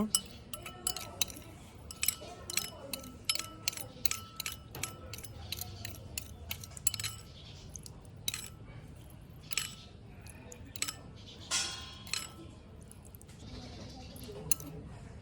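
A spoon clinks and scrapes repeatedly against a bowl while lemon juice and sugar are mixed, with quick irregular taps, fairly faint and close, alongside occasional soft background voice.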